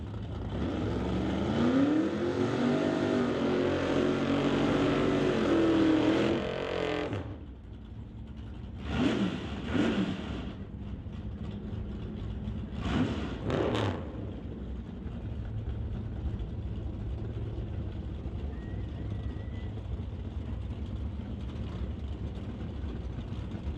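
Drag race launch at an NHRA Summit ET Series event, a 2003 Sonoma against an old 1972 Dodge, a loud engine roaring and revving for about seven seconds, then fading, with two brief bursts of passing noise later.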